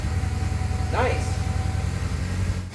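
A 1996 Ford Ranger's 2.3 engine idles roughly after a fuel pump replacement, a close, steady low thrum with an uneven pulsing beat, while a person speaks briefly over it.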